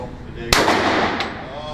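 Gunfire at an indoor seven-lane shooting range: one sharp, loud report with a long roomy echo, then a fainter second shot farther off, with no talk over it.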